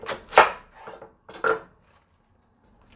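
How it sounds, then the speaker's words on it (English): Knife cutting down through the center of a head of cabbage for corned beef and cabbage, heard as two crisp, close crunching cuts with a short pause between, then quiet. "then I just cut down the center of the cabbage."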